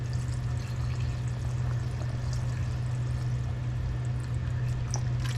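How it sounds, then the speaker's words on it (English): Juice pours steadily into pint canning jars during home food preserving, a continuous close liquid stream with a low hum underneath, no talking. "Let's go ahead and take some of the juice and put them in here."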